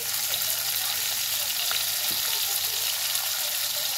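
Garlic, onion and tomatoes sauté in a hot pan with a steady, even sizzle that holds at a constant level throughout, close and without talk.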